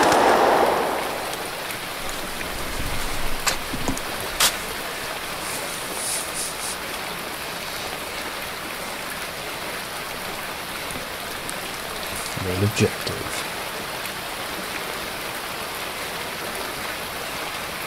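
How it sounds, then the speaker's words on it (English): Steady rain pouring in a zombie rampage video game, a dense constant patter with scattered sharper drips and a couple of faint thuds, while a voice briefly speaks. "I can hear the water, but it makes sense now because the water is like coming from the sky"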